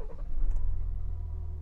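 A 2023 Ford Ranger Wildtrak with a 3.0-litre V6 EcoBlue diesel idles close by, giving a deep, steady low rumble that swells slightly just after starting and then settles into an even throb.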